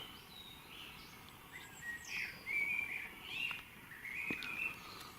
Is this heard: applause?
no